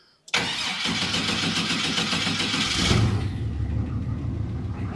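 An old buggy engine cranks briefly and catches, then settles into a steady mid-pitched running rumble, close and loud with no talking.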